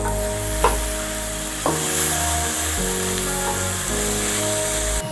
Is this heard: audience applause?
no